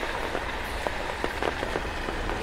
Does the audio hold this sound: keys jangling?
no